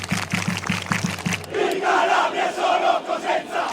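Catanzaro football fans in the stadium stands chant in unison, starting with rhythmic clapped beats and then swelling into a loud, sustained sung chant from a large crowd.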